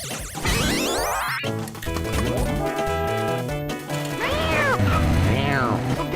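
A voice imitates a cat, with drawn-out meowing calls rising and falling over busy electronic pinball game sounds, close and loud.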